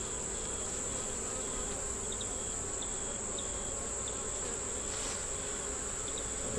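Honeybees buzz steadily around an open frame pulled from a five-frame nuc colony with a queen, eggs and brood, a close, continuous insect hum with chirping crickets in the background.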